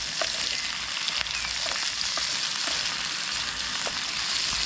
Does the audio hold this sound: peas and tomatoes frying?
yes